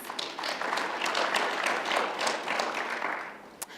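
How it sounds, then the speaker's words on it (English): Audience applause for panel guests at a finance conference, a steady patter of many hands clapping throughout, moderately distant, with a sharp single clap near the end. "A round of applause for my guests, please."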